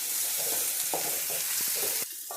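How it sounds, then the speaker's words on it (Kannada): Onions sizzle steadily in hot oil in a pan, half-fried as a tempering for a breakfast batter, with a dense crackling hiss and a few stirring knocks, close and alone throughout. "ಈಗ ಈರುಳ್ಳಿ ಒಂದು ಅರ್ಧ ಭಾಗದಷ್ಟು ಫ್ರೈ ಆಗಿದೆ."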